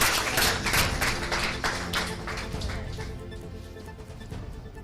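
Audience applause at a children's day event in Lagos, a dense spread of many hands clapping together, loud at first and gradually thinning out over a few seconds with no voices on top.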